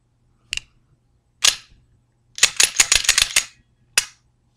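A semi-auto pistol is unloaded and made safe: a few separate sharp metallic clacks, then a rapid cluster of clicks and rattles from the slide and mechanism, and a final single snap, close and crisp without speech.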